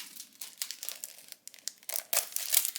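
Decorative parchment paper crinkles and rustles as it is handled, with short irregular crackles close by and fairly quiet, no talking.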